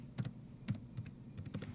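A student's username and password being typed on a computer keyboard: soft, close key taps in small uneven clusters, fairly quiet, with no talking.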